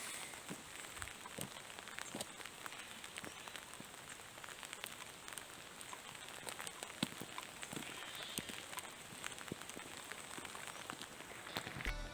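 Steady rain falls in the Izera Mountains, a constant, even hiss of drops pattering on surfaces, with scattered sharper drips standing out against it throughout.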